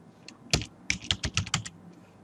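A short, quick run of keystrokes on a computer keyboard typing the ifconfig command in Kali Linux; about half a dozen close, distinct clicks in rapid succession.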